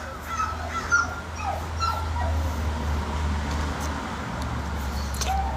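A dog whimpers and yips in repeated short, high cries outdoors near a stone wall, moderately close, over a low steady rumble of background noise.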